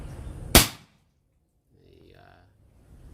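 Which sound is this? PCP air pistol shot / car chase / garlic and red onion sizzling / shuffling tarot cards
PCP air pistol shot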